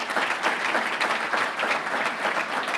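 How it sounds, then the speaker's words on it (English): A crowd at a civic State of the City address claps steadily, a thick, continuous round of applause from many hands, even in volume and close throughout. "Thanks for applauding so I could take a drink."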